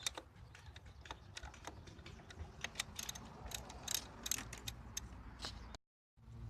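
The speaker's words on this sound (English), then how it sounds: "we need to remove this retaining bracket, which is held by a 10mm screw here, or bolt, which is what I'm going to remove now" A ratchet loosens a 10mm bolt on an engine bracket of a 2.2L Ecotec engine, a fast run of close, crisp clicking pawl ticks, steady and continuous before stopping abruptly.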